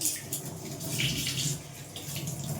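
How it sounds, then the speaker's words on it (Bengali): Tap water runs steadily as peeled papaya and potatoes are rinsed in a kitchen, with splashing and gurgling that rise and fall as the pieces are moved under the stream. "আমি বসিয়ে দিলাম পেঁপেটা আর আলুটা ধুয়ে নিই"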